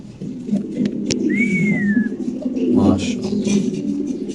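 Lahori pigeons, including hens sitting on eggs at a large fancy-pigeon farm, give a low cooing burst midway, with a brief thin whistle earlier and light background noise.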